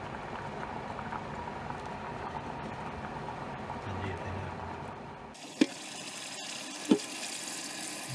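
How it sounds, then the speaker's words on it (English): Cold tap water runs steadily over boiled yams in a pot, a continuous close rushing splash that stops abruptly partway through, followed by a quieter stretch with two sharp clunks. "Now we cool the boiled yams with cold water."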